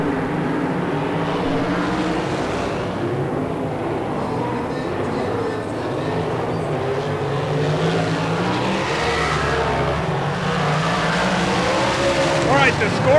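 USAC Silver Crown race cars circle the track in Las Vegas, their engines a constant loud roar behind steady commentary.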